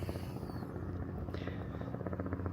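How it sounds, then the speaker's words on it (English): A helicopter flies nearby, giving a steady, throbbing rotor drone with a pulsing low rhythm that stays fairly faint but constant throughout, heard alone without talk. "It's a helicopter, guys. What a great noise it makes."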